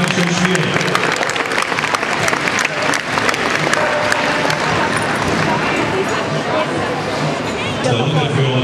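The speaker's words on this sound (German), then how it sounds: "wir dürfen nochmal klatschen, meine Damen und Herren" Audience at an OBI dog-training group demonstration giving sustained, dense applause, loud and steady throughout with a murmur of voices underneath.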